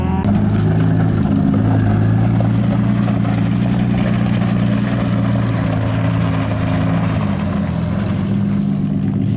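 A Nissan Skyline drift car drives with a loud, steady engine drone that holds throughout, a continuous low rumble with no clear revving or breaks.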